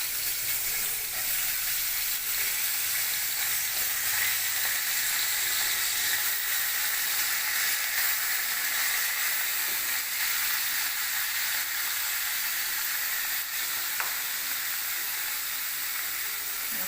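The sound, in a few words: beans frying in oil in a wok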